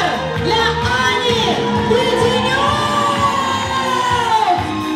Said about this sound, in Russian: грандиознейшими аплодисментами мы встречаем